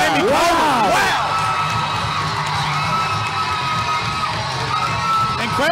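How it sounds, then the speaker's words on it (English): A loud arena crowd cheers and whoops steadily after a second-round TKO stoppage in a women's MMA bout at a VALOR Fights event, with shouts and yells rising over a continuous roar. "this crowd is loving it"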